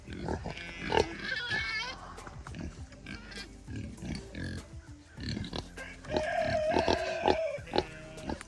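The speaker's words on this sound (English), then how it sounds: "So it's out of all these pigs, it's 5 boys and 2 girls, or 5 boars and 2 gilts." A pen of pigs, five young boars and two gilts, grunts and oinks in short bursts with a few higher squeals, close by, mixed with people talking.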